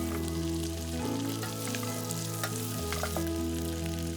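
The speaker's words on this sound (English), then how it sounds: "Once butter will melt, we'll add garlic, onion and carrot and allow them to soften." Garlic, onion and carrot fry in melted butter for an Egyptian lentil soup, giving a close, steady crackling sizzle over a constant low hum, with no speech.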